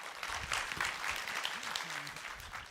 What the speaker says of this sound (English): Let's give a big round of applause again to Mr. Frankwell Lin, Chairman of RISC-V Taiwan Alliance